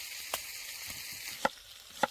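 Food sizzling in a pan as frying goes on, a faint steady hiss with a few sharp pops and clicks standing out, no talking.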